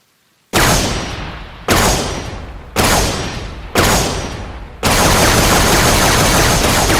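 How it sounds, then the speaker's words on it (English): Covenant Carbine from the Halo arsenal firing in an Arma Reforger mod, four loud sharp shots with decaying tails followed by a sustained dense burst of fire, close and alone with no talk. "Covenant Carbine, one of my personal favorite weapons in the Covenant arsenal as well, next to the plasma rifle, and it does have the sound effects as well"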